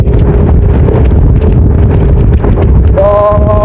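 Strong wind buffets the microphone outdoors during a sprint race of horses, a loud continuous roar with low rumble throughout, and a short whistling tone appears near the end.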